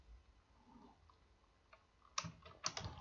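Computer keyboard typing Python code, mostly quiet at first, then a few sharp, close key clicks and short bursts near the end, with no talking.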